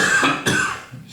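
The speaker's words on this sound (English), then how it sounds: "Excuse me, my usual morning cough, get it all out." A man gives a couple of harsh, close morning coughs in quick succession, loud and alone with no other sound.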